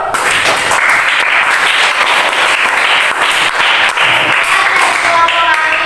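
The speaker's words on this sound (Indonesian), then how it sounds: "Kasih tepuk tangan dulu." Classmates in a school classroom break into dense, continuous applause that stays loud and close throughout, with many hands clapping at once and no speech over it.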